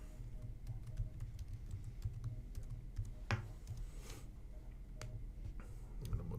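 A computer keyboard clicks out a password in soft, quick keystrokes with brief pauses, heard close up in a quiet room with no talking.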